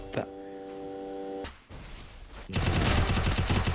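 Shotgun fire in a video game: a few sharp blasts and game tones, then a loud stretch of rapid, dense gunfire near the end.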